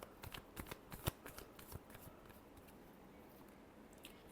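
Tarot cards riffled and shuffled by hand, a burst of crisp papery flicks in quick succession that fades into quieter handling, close and soft with no talking.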